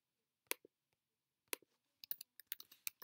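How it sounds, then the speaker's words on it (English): Computer keyboard typing: a few isolated keystrokes spaced apart, then a quicker run of crisp clicks, close and quiet with nothing else around. "here I'm going to type"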